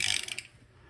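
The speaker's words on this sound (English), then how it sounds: "Ratchet." A hand ratchet clicks quickly several times while turning a brake caliper piston in a garage, close and crisp, then stops and leaves a quiet room.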